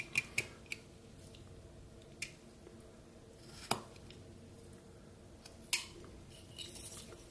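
Knife blade carving into wood while whittling a mouth shape, a few sharp scraping cuts and clicks scattered across a quiet background, close and fairly faint.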